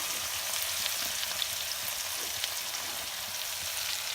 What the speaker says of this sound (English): Once the green chilies starts popping, you add onions, the chopped 2 onions.